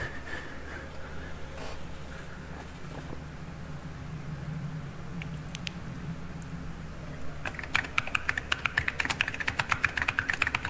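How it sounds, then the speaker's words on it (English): Keys clacking on a mechanical computer keyboard while playing Lethal Company, soft scattered taps at first, then a quicker, louder burst of clicking near the end over a low background hum. "You have a mechanical keyboard, bro."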